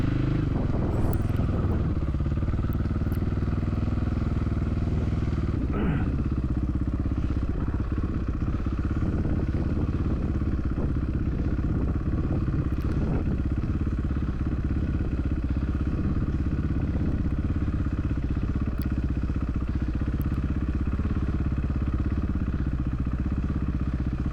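Enduro motorcycle engine running steadily in first gear off-road, a constant throaty drone with occasional faint clatter, close and continuous throughout.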